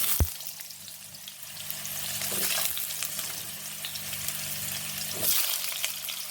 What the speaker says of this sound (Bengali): ডুমো ডুমো করে একটা মাঝারি সাইজের আলু কেটে নিয়েছি এটা দিয়ে দিচ্ছি